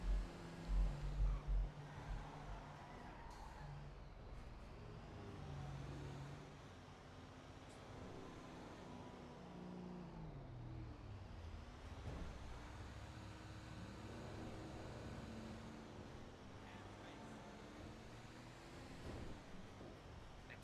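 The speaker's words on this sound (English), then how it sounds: "I hear two different engine sounds from my fucking truck" Truck engine in the video game RedlineRP: a steady, moderately loud low engine drone runs throughout, with a brief rougher rumble at the start and no talking.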